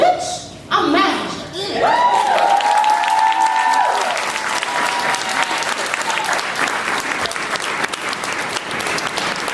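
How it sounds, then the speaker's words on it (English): Audience at a women's poetry slam bursts into loud, sustained applause with cheers and whoops, a dense wash of clapping that keeps going for several seconds. "let's keep the applause rolling for our next poet"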